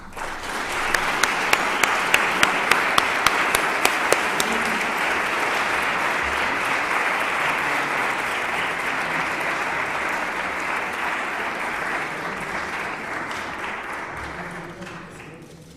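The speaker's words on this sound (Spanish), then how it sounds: "Un aplauso para él." Audience at an economic journalism awards ceremony applauding a prize winner, a loud, continuous round of clapping from a large room that holds steady for many seconds before slowly thinning out near the end.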